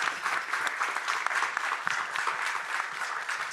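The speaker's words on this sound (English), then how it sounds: "Let's give the panelists a big round of applause" An audience gives a warm round of applause for panelists after a film screening and discussion, a steady mass of close clapping hands without voices.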